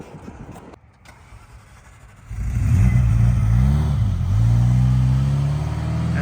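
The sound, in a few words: car starting and driving away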